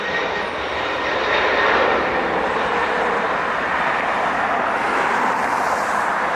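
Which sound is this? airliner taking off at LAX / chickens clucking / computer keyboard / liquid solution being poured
airliner taking off at LAX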